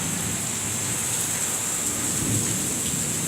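Rumbling thunder rolls through a severe thunderstorm in the Bronx, New York City, over the steady hiss of heavy rain falling on surfaces, continuous and loud with no speech.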